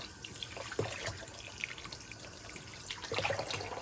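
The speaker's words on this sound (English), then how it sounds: "we'll rinse these up a little" Giant pumpkin seeds being rinsed with running water: a steady, close trickle and splash, like a tap running into a sink, with a few brief louder splashes and a busier surge near the end.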